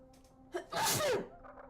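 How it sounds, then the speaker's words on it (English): A single loud, forceful sneeze close to the microphone, with a sharp intake before it and quiet background afterward. "That was a very, very aggressive sneeze."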